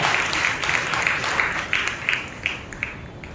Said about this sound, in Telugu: చప్పట్లు కొట్టి మనం దేవుని మహిమపరుస్తాం